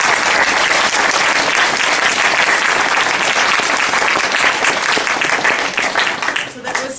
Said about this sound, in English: let's just once again give Dan a huge round of applause